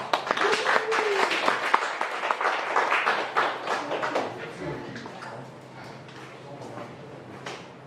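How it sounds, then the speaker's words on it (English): Audience applause welcoming a guest lecturer at a talk on maritime disputes in the West Sea, a burst of dense clapping that gradually thins and fades out. "please welcome Jonathan with applause"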